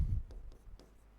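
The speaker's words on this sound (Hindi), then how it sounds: "इसको लिखेंगे अपन" Chalk or marker tapping and stroking on a board during a geography lesson, several short light strokes spaced at intervals, soft and fairly close after a brief low rumble.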